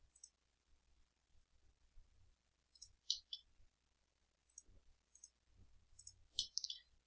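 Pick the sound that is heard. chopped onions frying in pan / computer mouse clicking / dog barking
computer mouse clicking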